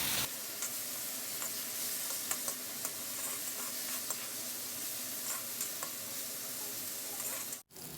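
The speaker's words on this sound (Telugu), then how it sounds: "3-4 నిమిషాల పాటు హైలో పెట్టేసుకొని ఈ విధంగా కలుపుకుంటూ వేయించుకుందాము" Cauliflower fries over high heat in a pan, giving a steady, quiet sizzle with scattered ticks and scrapes from stirring, and a brief dropout near the end.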